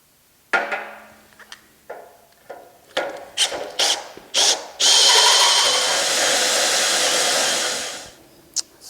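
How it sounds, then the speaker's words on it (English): Power drill boring holes in metal parts on a motorhome project: several short trigger bursts, then one long steady whine lasting a few seconds before it winds down, loud and close with no talk. "I'll drill out these two and see if I can force those things in there"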